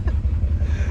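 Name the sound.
engine knocking in a 50-year-old truck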